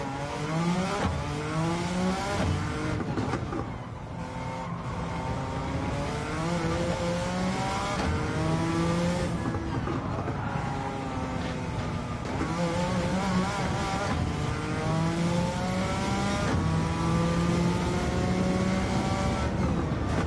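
A race car engine in Gran Turismo 7 on PS5 revs hard through repeated gear changes, the pitch climbing and dropping in a steady cycle as the car accelerates and shifts, loud and continuous with faint tire noise.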